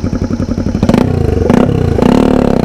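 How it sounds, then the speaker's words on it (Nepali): A motorcycle engine revs loudly up close, starting with a rapid idle putter, then surging in several sharp throttle blips that hold a rough, throaty roar to the end. "बाइकको साउन्ड बबाल"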